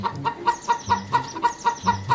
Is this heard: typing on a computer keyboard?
no